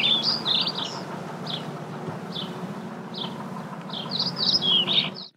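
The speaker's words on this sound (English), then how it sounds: "Now, the correct sound of birds." Birds chirp and tweet in short bright bursts over a steady low hum, with denser calls at the start and end of a played recording.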